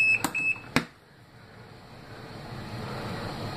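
Mini automatic washer's lid-open safety alarm, with a few sharp electronic beeps at the start before the machine stops and a low mechanical hum carries on.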